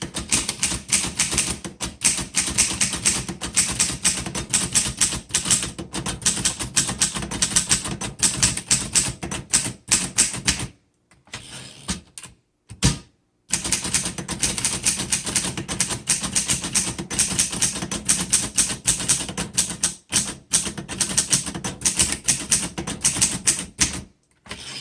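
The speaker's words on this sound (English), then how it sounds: "You can tell you're typing on something that's old, but it's very quality, it's solid." A 1947 Underwood Universal manual typewriter is typed on steadily, giving dense, rapid key clacks close up, with two short pauses near the middle and no talking.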